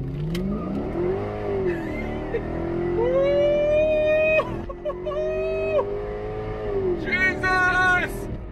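A Whipple-supercharged Mercedes E55 wagon engine revs hard with a rising whine, climbing in pitch through several gear changes, loud and close.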